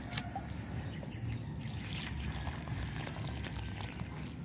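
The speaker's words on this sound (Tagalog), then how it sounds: "So ito yung tubig. Kailangan natin yung diligan." Water poured onto chili plants in a farm field, a steady close trickle and splash running continuously with no talking.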